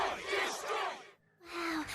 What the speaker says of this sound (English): A big chorus of destroy, destroy, destroy.